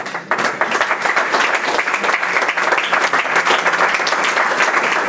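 A church congregation applauds together during a worship service, producing loud, dense and continuous clapping that fills the room from start to finish.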